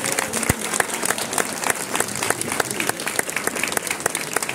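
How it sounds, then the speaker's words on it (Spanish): Audience applause from a crowd at a live Spanish community performance, steady dense clapping that holds loud and even throughout. "Un aplauso para ellos también."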